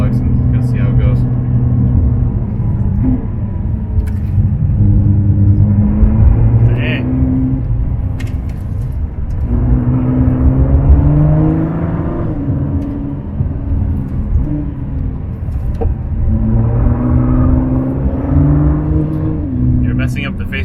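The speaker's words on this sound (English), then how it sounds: "you can start to hear the turbos a little bit" A 2019 Ford GT Heritage Edition cornering, its twin-turbo engine droning and rising and falling in pitch with faint turbo whistle, loud and close inside the cabin, while someone talks over it.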